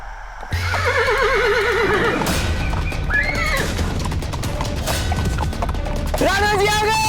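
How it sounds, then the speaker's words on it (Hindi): Loud, close horse whinnies with trilling, wavering calls come over a dense, busy background of crashes and rumbling, and a further neigh follows near the end, while hoof clatter and voices mix in throughout. "कुंवर अमर सिंह जी घोड़े पर बैठकर बाहर भाग गए"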